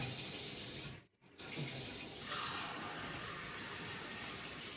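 Kitchen tap water running into a measuring cup, a steady close splashing stream briefly cut off after a second, then flowing again with a rising fill tone, no talk.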